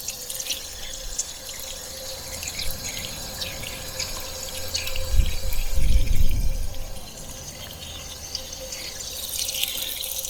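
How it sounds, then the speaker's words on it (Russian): Mountain spring water running from a tap into a bottle, a steady close splashing flow that swells slightly in the middle, with no talk over it. "Наберем воду себе в бутылочку."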